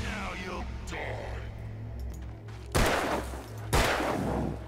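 Gunshots in the Alan Wake video game, with two loud, sharp blasts fired about a second apart late in the clip, following fainter game sounds and murmured voices.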